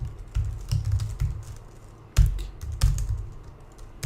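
Typing on a computer keyboard, with clusters of close, crisp key taps in irregular bursts and short pauses between them.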